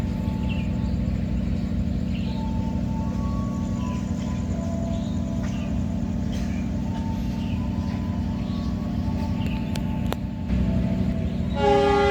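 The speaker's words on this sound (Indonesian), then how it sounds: "Kereta diberangkatkan dari stasiun Pasuruan Kota" Steady rumble of a commuter train departing Pasuruan Kota station with rhythmic rail clatter, faint horn tones and squeals, growing slightly louder near the end as it gets underway.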